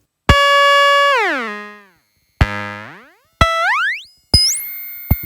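Four loud square-wave tones with bright buzzy harmonics from a JHS drum synth oscillator, each starting abruptly and pitching down or sweeping up.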